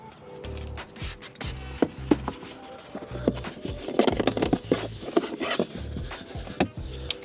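A brush scrubs foaming interior cleaner into a car's upholstery, a close, steady rubbing with rhythmic strokes and soft wet scratching, alone.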